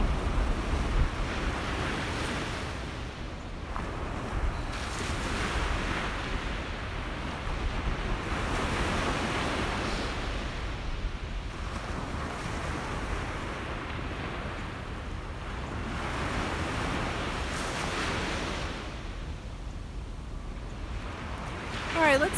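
Ocean waves wash steadily onto a beach on a colorful morning, a continuous soft surf roar with gentle swells and some wind rumble, heard alone without talk.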